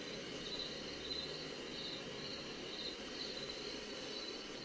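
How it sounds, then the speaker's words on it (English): Cricket chirping setting from a sleep aid sound machine plays as a continuous high trilling pulse over a steady hissing bed, even and unbroken. "Crickets."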